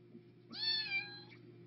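One long-haired cat gives a single clear, drawn-out meow of about a second, close but fairly quiet over a steady low background hum, with no talking.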